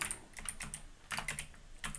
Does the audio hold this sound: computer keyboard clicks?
yes